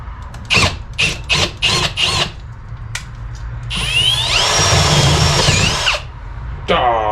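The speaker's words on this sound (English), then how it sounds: "I'm drilling it out to 9/16," A power drill bores out a hole to 9/16 inch ahead of a reverse-thread 5/8 tap on a Chevy OBS rack-and-pinion part. Several short whirring bursts come first, then one long loud grinding run with squeal, close up.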